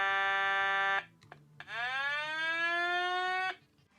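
A toy aircraft carrier's battery-powered microphone runs its siren setting: a loud electronic tone holds steady, cuts out near one second, then after a short gap sweeps up and holds again before stopping, with no talking.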